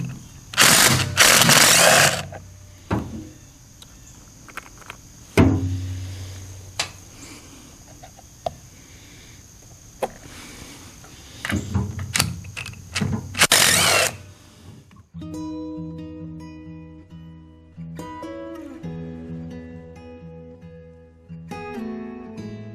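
Power tool bursts whir loudly in short runs while bolts come off an old brush cutter gearbox hood, followed by lighter clinks and rattles of loosened hardware, close up with no talking.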